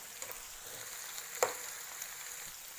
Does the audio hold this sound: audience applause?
no